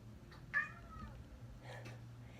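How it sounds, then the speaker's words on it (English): A pet cat meows once, a short rising cry close by, followed by faint softer vocal sounds over a low steady background hum. "My cat says happy Wednesday also."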